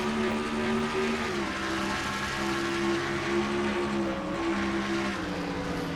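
Onboard the Goodrich Chevy race car in 2nd gear during the Budweiser 400, the engine gives a steady, droning roar whose pitch dips and climbs slightly, heard alone without voices.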